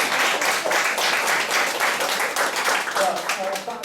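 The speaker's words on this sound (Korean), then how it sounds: "박수 한번 칠까요?" A lecture audience applauds in a hall, a dense, steady burst of many hands clapping together for a few seconds, loud and close throughout.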